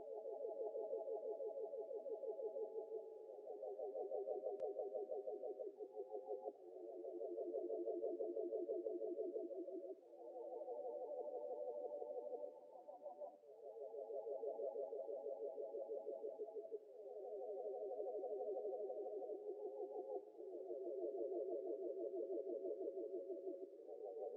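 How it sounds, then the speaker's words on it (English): Sustained synth pad chords with a soft, warm midrange tone, changing every few seconds in smooth, continuous swells with no voices. "I added this pad that just comes out halfway through just to give it a new character"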